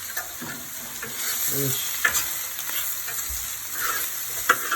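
Vegetables cook with butter on a home teppanyaki grill, sizzling steadily while a spatula scrapes and taps against the hot plate in irregular bursts.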